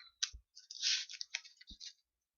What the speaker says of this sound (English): there's me like shuffling my real life deck